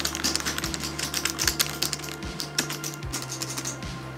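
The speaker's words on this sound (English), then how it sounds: "Ultra-fast optical mechanical keyboard is one of the best feeling keyboards I've felt on any laptop." Typing on the optical mechanical keyboard of an Asus ROG Strix Scar G733 laptop makes a fast, even run of crisp clicky keystrokes, close up and continuous, with a faint low hum beneath and no voices.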